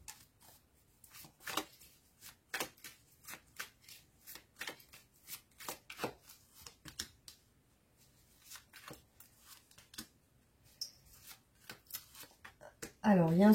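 Tarot cards shuffled for a reading, a run of crisp riffling snaps and short bursts, some isolated and some in quick clusters, close and clear, with a brief voice at the very end.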